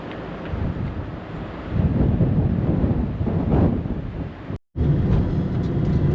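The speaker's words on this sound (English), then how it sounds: "Check the waves down here." Ocean waves wash onto the shore in a steady, rough roar, heavily mixed with wind buffeting the microphone, with a brief cut-out near the end and no voices.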